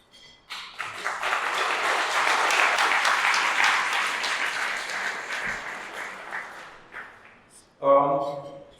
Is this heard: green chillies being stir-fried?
no